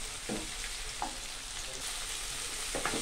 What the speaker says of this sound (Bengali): এখন আমি ডিমটাকে গুঁড়ো করে নিচ্ছি,